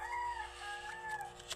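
A rooster crows in one long, drawn-out call that wavers in pitch, close and clear over a low steady background hum, with no voices.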